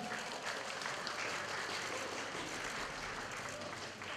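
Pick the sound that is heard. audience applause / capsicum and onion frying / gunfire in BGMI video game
audience applause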